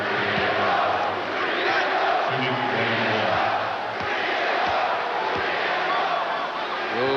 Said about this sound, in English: Rowe at the line, crowd chanting 3 in a row.